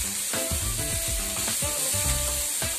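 Steady, loud sizzling and crackling as a little water is added to field beans frying in a pan, with scraping stir sounds repeating through it.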